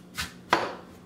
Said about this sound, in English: All we're gonna do is just cut our sweet potato in half